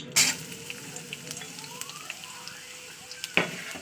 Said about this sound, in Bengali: দিয়ে দিলাম পেঁয়াজটাকে। এবার দিয়ে পেঁয়াজটা একটু লাল করে ভেজে নেবো।